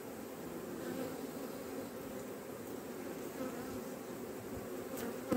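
Honeybees swarm over a brood frame lifted from the hive, a dense, steady buzzing hum that stays close and even throughout with no voices.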